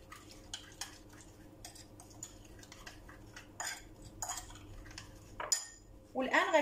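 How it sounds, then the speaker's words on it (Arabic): A spoon works oil into a chermoula marinade for chicken in a bowl, giving repeated close scraping and clinking strokes that grow busier toward the end, with no talk. "الان غادي نزيد الزيت، غادي نخلط هاد الشرموله هادي"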